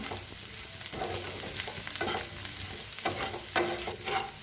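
Potato sabzi roasting in a pan, a continuous close sizzle with a spatula scraping and stirring in bursts every second or so, no voices.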